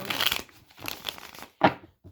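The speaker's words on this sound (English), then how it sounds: "I have pre-shuffled, but always like to do a few more." Tarot cards are shuffled in short bursts, crisp papery riffles and rustles separated by brief pauses, close and fairly soft, ending with a final quick flick.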